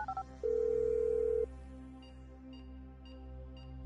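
A phone call in a GTA video game plays a short electronic tone pattern, then a steady held tone of about one second, followed by faint repeated beeps over a low background hum.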